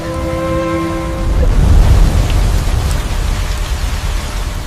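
Heavy rain pouring down in a steady wash of noise that swells louder partway through, with a fading tone at the start and no talk.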